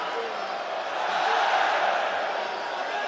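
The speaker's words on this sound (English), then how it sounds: "The Coca-Cola Arena crowd loving the work from Usman Nurmagomedov." Arena crowd at the Coca-Cola Arena during an MMA fight between Usman Nurmagomedov and Paul Hughes, a broad sustained roar of cheering that swells slightly in the middle, distant and dense.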